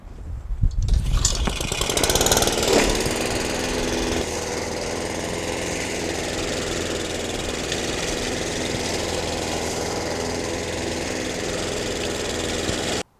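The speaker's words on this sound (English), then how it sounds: "so let's start the mower" A lawn mower engine cranks and catches, with a burst of rough revving during starting, then settles into a steady, loud running drone that continues to the end.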